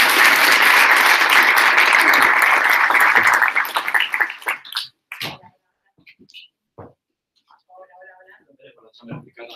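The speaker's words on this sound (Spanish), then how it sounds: "Y un pequeño aplauso así nada." Loud audience applause at a talk on the future of work fills the room for about four seconds, then breaks off into a few scattered claps, with a voice speaking briefly afterward.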